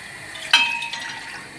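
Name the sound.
pouring water into a bowl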